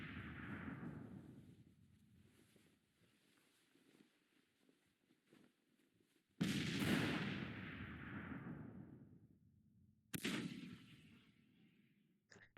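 Artillery barrages boom in the Civil War strategy game Grand Tactician: The Civil War, with a rumbling volley early on, then two sharp, loud blasts that trail off, heard alone with no voices.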